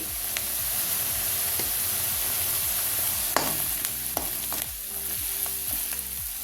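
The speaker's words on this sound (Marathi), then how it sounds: "हे बघा, कांदा छान तेलावर परतला गेलाय।" Onion with homemade garam masala and coriander powder sautéing in oil for spicy kharda chicken, a steady close sizzle and crackle with occasional spatula scrapes against the pan, no talk.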